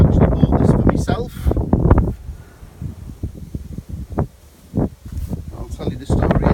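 Wind buffets a microphone outdoors beside an Autocruise Wentworth motorhome, with heavy low rumbling gusts in uneven bursts and a voice partly heard under the noise.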